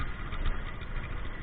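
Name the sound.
Honda Titan motorcycle engine idling with modified 2-in-1 exhaust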